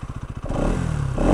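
A 2024 Bajaj Pulsar 200NS motorcycle exhaust gives a brief close burst: rapid pulsing idle thumps that rise into a louder, throatier rev, with no talking.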